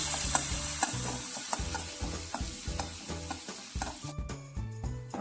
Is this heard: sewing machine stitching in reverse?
no